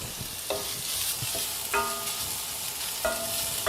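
Chopped onions sizzling in a hot pan, with several short scraping stirs of a utensil breaking through the steady frying hiss.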